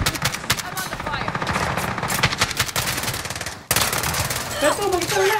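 Rapid bursts of video game gunfire, including shotgun blasts, crackle loudly and continuously through a multiplayer match, with a brief cut near the end and voices talking over the shooting.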